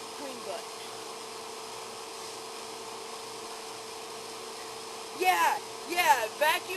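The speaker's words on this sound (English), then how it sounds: "My vacuum cleaner's alive." A household vacuum cleaner runs with a steady, moderately loud droning whir throughout, and a few sharp squeaky sounds rise over it near the end.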